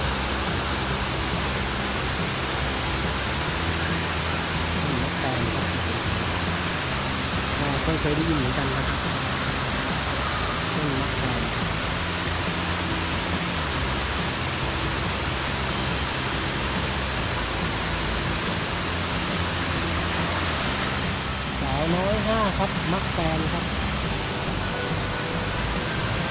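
Chet Sao Noi Waterfall rushes in strong flow down tiered cliff steps, a constant, full roar of falling water that never lets up while someone speaks over it.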